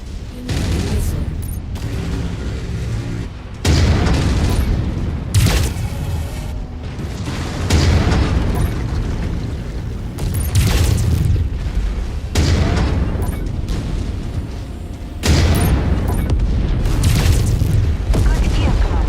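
Missile explosions in a video game boom repeatedly, several heavy blasts arriving every few seconds over a constant rumble of combat, with voices talking in between.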